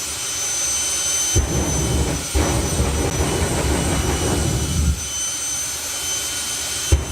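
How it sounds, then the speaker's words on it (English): A purpose-built drag racing jet dragster powered by a Pratt & Whitney J60 jet engine roars loudly and steadily, with a broad whooshing thrust and brief surges, close and continuous for the whole stretch. "this is a purpose-built jet dragster, powered by a Pratt & Whitney J60 jet engine"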